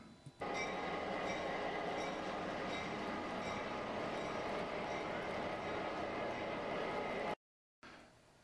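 A New York Central passenger train, the westbound Knickerbocker led by a pair of EMD E8 diesel locomotives, roars past as a steady loud rumble of engines and rolling wheels, cutting off abruptly near the end.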